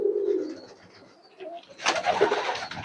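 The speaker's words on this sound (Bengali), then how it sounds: "এবং ভালো বেশ ভালো মানের কিছু কবুতর আছে। সিরাজি কবুতরটা অনেক সুন্দর।" Pigeons coo softly and close by in a loft on a pigeon farm housing mixed breeds, followed by a louder burst of rustling and shuffling among the birds.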